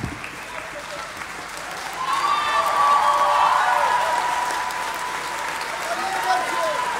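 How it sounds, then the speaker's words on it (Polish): An outdoor festival crowd applauding at a talk held at Woodstock 2017 in Poland, a dense steady wash of clapping that swells louder partway through, with whistles and cheers mixed in. "dajcie teraz wy im brawa, bo to jest najpiękniejsza brawa od Roberta"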